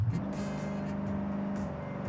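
Koenigsegg Jesko in Forza Horizon 5 accelerating toward top speed, a steady, loud engine drone holding a sustained tone throughout with no speech.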